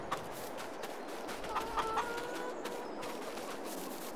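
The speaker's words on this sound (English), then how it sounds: "And the chickens are going well as well." Chickens clucking in the Farming Simulator 22 game on the Riverview map, a few soft, short clucks standing out briefly over a steady background ambience of the farm.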